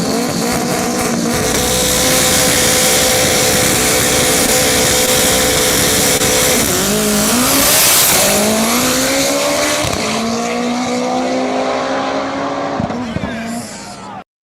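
An all-wheel-drive Honda race car on very small tires races at a no-prep drag event, its engine roaring loud and close with rising revs and gear changes, then fading as it pulls away, while voices talk over it.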